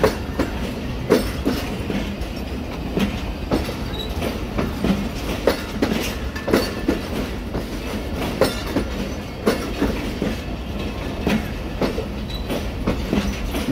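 A Pakistan Railways express passenger train passes close by, with steady loud rumbling and repeated rhythmic clickety-clack of wheels over rail joints continuing throughout, with no talking.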